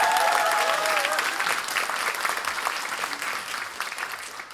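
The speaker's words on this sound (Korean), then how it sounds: "아니 박수 치면 박수 치세요." An audience at a political talk concert in Wonju, Gangwon, applauds with dense, steady clapping that starts loud and slowly fades. A few voices can be heard faintly underneath.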